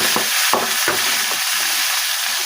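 A spoon stirs a tomato and coriander mixture frying in hot oil for a Marathi bell pepper dish, giving a few soft scraping strokes over a steady sizzle.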